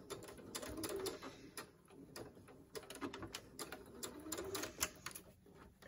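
Sewing machine back stitching fabric for a face mask, quick bursts of mechanical clattering separated by short pauses, quiet and close.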